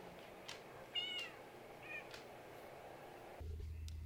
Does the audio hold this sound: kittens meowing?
yes